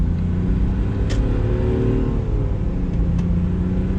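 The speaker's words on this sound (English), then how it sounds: "it automatically shifts when you over rev it." A Smart Fortwo CDI's small diesel engine drones steadily while being over-revved in manual mode before the transmission shifts on its own, heard from inside the car as a continuous loud rumble.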